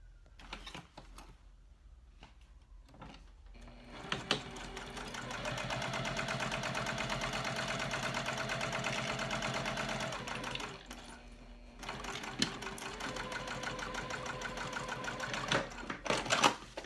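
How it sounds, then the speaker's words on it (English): Sewing machine stitching down both sides of zipper teeth on a teddy backpack, a steady rapid mechanical whir in two long runs separated by a short pause, fairly close and alone. "I'm gonna sew down both sides of my zipper teeth."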